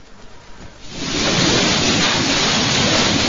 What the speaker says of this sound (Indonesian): Inilah suasana hujan besar yang disertai badai di Kota Bandung.